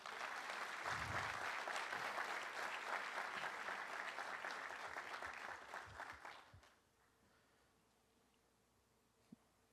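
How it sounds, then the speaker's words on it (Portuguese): Church congregation applauding in a loud, dense burst of clapping that runs steadily for about six seconds, then cuts off to near silence with one faint click near the end. "Aplauda o Senhor Jesus."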